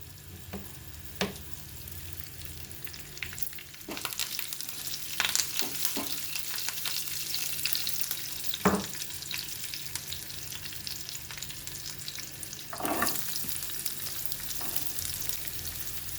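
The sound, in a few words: mustard seeds and curry leaves frying in oil, stirred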